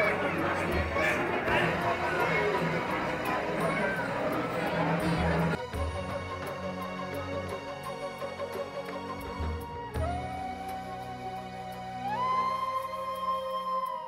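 Crowd chatter in the darshan queue at the Tuljabhavani temple in Tuljapur, a busy babble of voices for several seconds before giving way to ringing tones and music.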